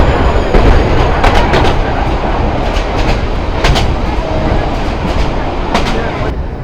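Sagorika Express local train running at speed in Bangladesh, a loud continuous rumble of wheels on rails with repeated clickety-clack bursts and rattling carriages throughout, with faint voices mixed in.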